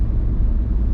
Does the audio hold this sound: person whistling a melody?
no